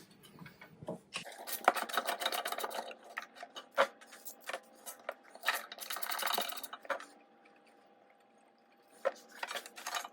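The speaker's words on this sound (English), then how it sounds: "Now using the 10mm socket with an extender, I'm going to remove the bolts here that are holding in the belt guard" Ratcheting and clicking of a 10mm socket on an extender backing out belt guard bolts on a Honda HRR mower, a run of brisk metallic ticks with short pauses and a few sharper knocks, close and moderately loud with no talk.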